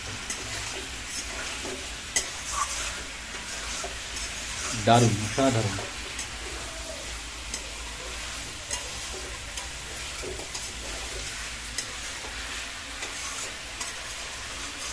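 Onions, turmeric and spices are stirred in a wok for a country chicken curry, giving a steady sizzle with scraping strokes, while a voice speaks briefly partway through.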